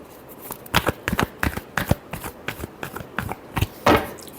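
Tarot cards shuffled by hand in a quick run of crisp riffling bursts and soft slaps, close and fairly loud, with a final louder burst near the end and no talking.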